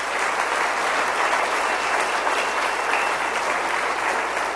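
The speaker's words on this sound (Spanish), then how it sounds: "Denle un aplauso al Rey bendito" Steady, sustained applause from a congregation during a church sermon, many hands clapping evenly at moderate volume with no voices over it.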